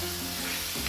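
Food sautés in a hot pan, with a dense continuous sizzle that stays close and fairly loud through a short moment, no voices.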